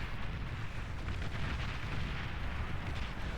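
Artillery fire in the strategy game Beyond All Reason, a dense rumbling barrage of low booms and explosions during a large 8v8 battle on Supreme Isthmus, continuous and fairly muffled, with no voices.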